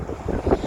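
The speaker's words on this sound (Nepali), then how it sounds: "हावा त्यस्तै चल्दैछ फेरि" Wind blows across a snow-covered road, making a steady low rumble and buffeting close to the microphone with a few stronger gusts. No one speaks.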